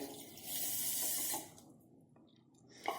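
Water pours in a short, steady stream onto sugar in a pan for about a second, then stops, leaving a quiet room with a small clink at the end.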